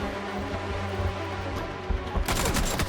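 Gunfire in the PUBG: Battlegrounds shooter, a steady loud run of shots over the first two seconds that swells into a denser, harsher burst near the end, with no voices.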